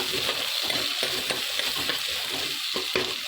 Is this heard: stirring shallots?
yes